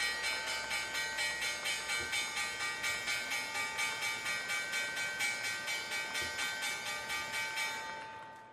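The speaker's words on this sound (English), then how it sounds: "There's the bell." Opening bell at the stock market open, a steady run of rapid metallic bell strikes ringing loud and bright for about eight seconds, then fading at the end.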